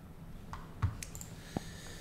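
A few computer mouse clicks, sharp and close, spaced unevenly over about two seconds against a faint background hum, with no speech.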